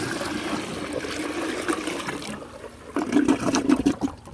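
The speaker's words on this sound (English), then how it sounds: "let me flush it again, bucket flush it" Pouring a bucket into a tankless 1921 Eljer Andes toilet to flush it makes a steady rush of water. Then come louder gurgling surges as the siphon pulls the bowl down.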